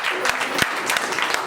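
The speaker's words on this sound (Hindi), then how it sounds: "देखो तालियां" A crowd at a network-marketing meeting in Bawana claps briskly and continuously, sharp overlapping hand claps of moderate loudness with a voice speaking underneath.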